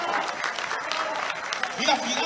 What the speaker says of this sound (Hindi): तालियां बजा सकते हैं यार आप